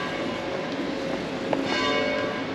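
Noon church bells in Palma, Mallorca ring somewhat distantly, their sustained metallic hum and a couple of soft strikes sitting in a continuous open-air city background, with no talking.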